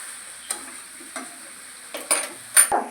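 Vegetarian khichuri cooking in a pot in a Bengali home kitchen, with a steady faint sizzle under a few sharp scraping stirs and clinks that grow louder toward the end, and no talk.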